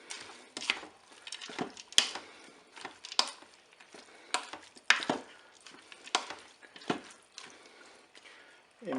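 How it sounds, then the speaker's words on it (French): Peas and other paella ingredients stirred together in a Cookeo cooker, a series of uneven scraping and clinking strokes of a utensil against the pot, close and irregular in rhythm. "Bien sûr, on mélange les ingrédients"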